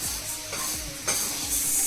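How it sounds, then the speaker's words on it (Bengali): Steady sizzling of sago and potatoes frying in a pan, with a few soft scraping stirs. "সাবু ভাজা হচ্ছে, ফর মেকিং বড়া, এবং এই হচ্ছে আলু ভাজা।"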